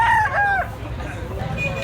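A gamefowl bullstag crows nearby at a rooster sale in Cabon, Cebu. One loud, strained crow comes at the start and fades into a noisy outdoor background.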